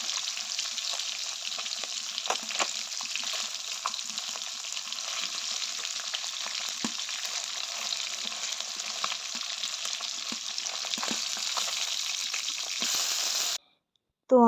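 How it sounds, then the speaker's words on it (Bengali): Fish fries in hot oil in a pan, a steady, close sizzle with crackles and spits. It runs on unbroken and then stops abruptly near the end. "তো মাছটা এদিকে ভাজা হয়ে যাক, এপিট ওপিট করে উল্টে ভেজে নেব।"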